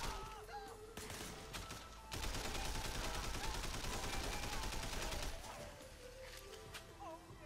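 Sustained automatic gunfire bursts from the cover shooter game Sleeping Dogs, a dense rattling stretch in the middle framed by scattered shots and impacts, moderately loud.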